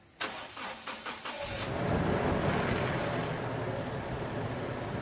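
A Toyota Innova engine cranks with a few rhythmic starter pulses, catches, and settles into a steady idle rumble with a high idle at start, close by.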